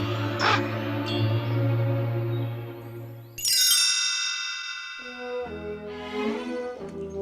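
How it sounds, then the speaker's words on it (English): A raven's harsh caw rings out as a storybook sound effect, a couple of loud calls with a tonal, slightly musical backing, no voices heard. "But high in the sky, Maleficent's wicked raven spotted the bright bursts of magic."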